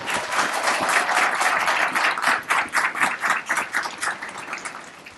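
An audience at a U.S. Air Force basic military training graduation ceremony applauds loudly, a dense wash of clapping that swells and then thins out toward the end.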